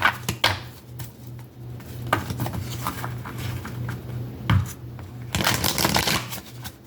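A deck of oracle cards is shuffled by hand up close, with soft riffling and patting bursts in an irregular rhythm over a faint background hum.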